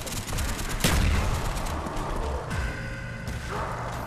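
A scoped G11 rifle fires in Call of Duty Black Ops Zombies, rapid bursts of gunfire with thudding impacts amid game noise.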